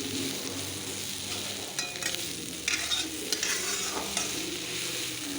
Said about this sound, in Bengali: দেখতে পাচ্ছ আমার পেঁয়াজের কালি ভাজা হয়ে গেছে।